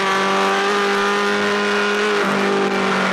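A racing car driven hard at full throttle in third gear at about 120 mph on a straight, its engine a loud, steady high-pitched howl close by, with a brief pitch dip near the end.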